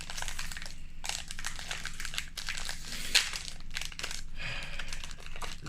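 Crinkly plastic wrapper on a packet of wafer biscuits being pulled and crushed open, a dense, continuous close-up rustle and crackle with one sharper snap partway through.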